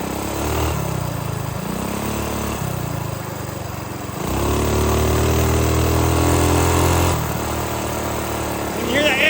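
Minibike engine with a billet flywheel and stock rod revs hard to around 5,000 RPM, a loud buzzing drone rising and surging in pitch, with people talking over it.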